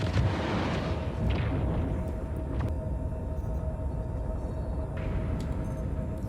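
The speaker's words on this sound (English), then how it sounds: "Got more missiles. Fire." Missiles fired from an RSI Hermes ship in Star Citizen, heard as a loud rumbling launch roar with sharper bursts, sustained thunderous engine noise throughout.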